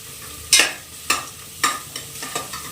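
Ginger garlic paste frying with onions in hot oil, with a steady sizzle broken by several sharp scraping stir strokes, close and loud with no talking.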